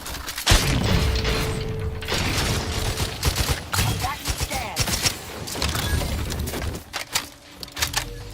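Full-auto gunfire in The Outer Worlds 2 video game, loud and close, with bursts of rapid shots mixed with booms and mechanical clatter in uneven clusters.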